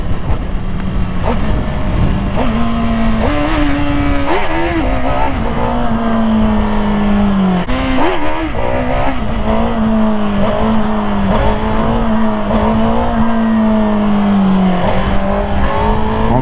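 A motorcycle engine revs loud and close, its droning pitch rising and falling repeatedly over a sustained ride with no pause.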